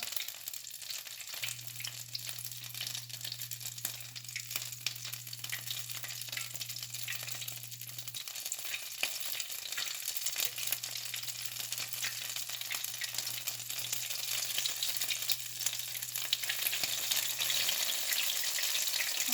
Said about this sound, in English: Alright, and I'm going to fry these up